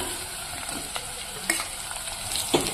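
Radish pieces frying with onions in hot oil for radish sambar, giving a continuous close sizzle with a few sharp spatula scrapes and taps against the pan.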